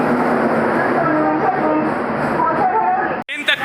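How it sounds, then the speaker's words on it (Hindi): Sabarmati Express hauled by a Lucknow WDM 3D diesel locomotive, a loud, close rumble of the train running steadily with a sharp break near the end, while someone talks over it. "लखनऊ के WDM 3D के साथ चल रही है साबरमती एक्सप्रेस"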